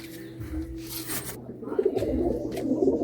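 A Giribaz pigeon is released, with flapping wingbeats, soft coos and scattered bird calls close by, amid handling noise and a brief murmur of voice.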